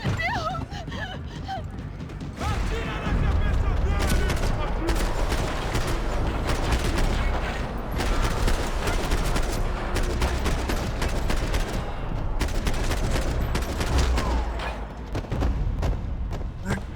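Heavy gunfire in Max Payne 3, dense rapid bursts of automatic shots and loud booms through a close firefight, with shouted voices cutting in at the start.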